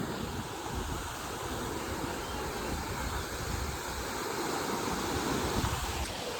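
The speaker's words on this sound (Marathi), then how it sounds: "किती मोठा धबधबा आहे बघा" Large Dhangar waterfall near Badlapur, a steady broadband roar of falling water that holds level and close throughout, with no speech over it.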